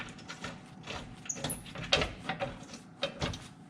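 A steel bumper bracket plate slides into a Jeep mount, making a series of quiet metallic scrapes, clicks and clunks in an irregular rhythm, with no talk.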